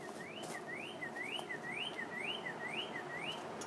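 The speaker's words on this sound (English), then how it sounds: "It's a bird." A bird chirps a rapid series of rising, repeated whistled notes close by, steady and rhythmic over faint background noise, with no voices.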